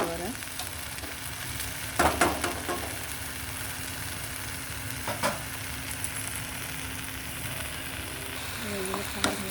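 Dried shrimp and vegetables frying in a hot pan with a steady sizzle throughout, punctuated by a few sharp clinks and scrapes of stirring, recorded close.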